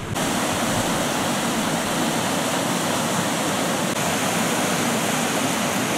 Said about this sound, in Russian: Там водопадик